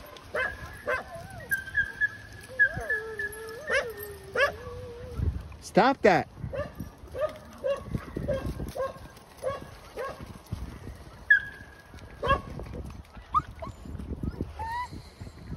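Dogs whine and whimper in high, wavering cries, with a few short yips, eager for a swim at a closed pond, while a person talks over them close by.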